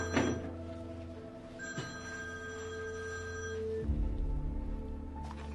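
An old-style telephone bell rings in a Chinese drama office scene, a clear repeated tonal ringing that sounds fairly close, with a thunk-like knock near the end.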